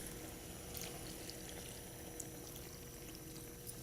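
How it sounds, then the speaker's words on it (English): Water poured into a pan of cooking red spinach, a soft steady splashing trickle with faint sizzle, quiet and continuous throughout. "I think I need to put a little more water."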